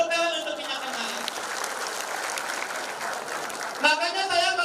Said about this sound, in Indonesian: Tepuk tangan untuk minyak MHS.